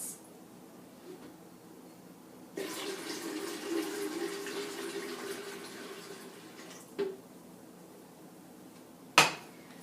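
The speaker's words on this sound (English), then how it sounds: "you'll start by pouring that in the pitcher really, really carefully so then you don't spill hot tea all over" Hot tea is poured from a pan into a pitcher, giving a faint, steady trickle of liquid that starts abruptly and runs for several seconds, followed by a couple of sharp clinks of cookware.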